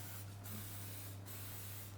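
Cooking spray hisses from a can into ramekins as they are greased for dessert, in two short spurts over a low steady hum, with no talking.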